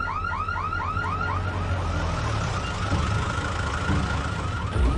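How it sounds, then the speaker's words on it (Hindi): A police siren sound effect in a film bank-heist scene wails in rapid repeating sweeps, loud and continuous over a steady background rumble. "सायरन क्यों बज रहा है?"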